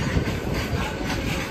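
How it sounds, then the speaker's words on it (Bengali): A train pulling out of a station rumbles heavily and continuously, with rhythmic wheel clatter and low-end roar heard from on board. "ট্রেনটা ছেড়ে দিয়েছে, এবারে যাবো হাওড়ার উদ্দেশ্যে।"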